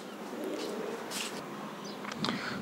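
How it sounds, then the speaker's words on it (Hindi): A pigeon gives a soft, low coo amid a noisy background, with a few faint chirps and rustles scattered through. "तो ये कबूतर है"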